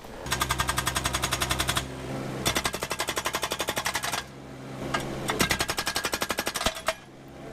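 A Case hydraulic hammer pounds concrete in three long bursts of rapid, rattling blows with brief pauses between them, loud and close.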